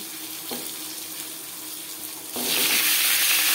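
Cut potato pieces hit hot oil tempered with five-spice, and a soft background crackle jumps into a loud, continuous hissing sizzle partway through.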